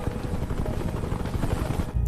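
A helicopter on a hospital rooftop in a film scene, its heavy rotor roar and engine rumble loud and continuous throughout, with no speech over it.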